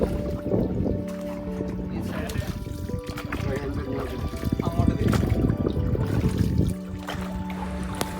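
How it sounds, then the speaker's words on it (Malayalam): A rowing boat on Sasthamcotta Lake paddled with an oar on one side only, water splashing and trickling close by in repeated strokes while people talk over it. "ഒരു സൈഡിലെ തുഴ മാത്രം ഇങ്ങനെ തുഴയുമ്പോൾ ആ വെള്ളം നമുക്ക് തിരിഞ്ഞ് തിരിഞ്ഞ് വരുന്നതായിട്ട് ഫീൽ ചെയ്യല്ല, തിരിഞ്ഞ് വരും"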